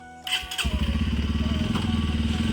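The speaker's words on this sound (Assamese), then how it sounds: "এনেদৰে বাইকখন ষ্টাৰ্ট দিলে আৰু ফুফুকে গ'লগৈ" A motorcycle engine cranks and fires up, then settles into a loud, steady, throbbing run close by before riding off.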